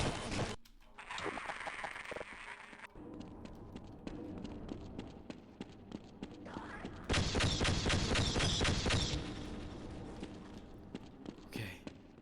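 Rapid gunfire in the video game Half-Life, bursts of repeated shots with clattering impacts, loud and close, broken by quieter stretches between volleys.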